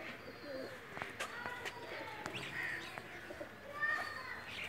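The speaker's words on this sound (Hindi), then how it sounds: "फेवरेट कबूतर है जी हमारा।" A pet pigeon coos softly in a loft, low throaty calls repeating among faint chirps from other birds and distant background voices.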